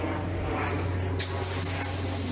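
Shower-pattern spray from the nozzle of a Raaya expandable 50-foot garden hose: a steady, fairly loud hiss of water running continuously throughout, with a brief louder burst partway in and no talking over it.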